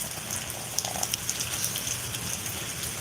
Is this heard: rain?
yes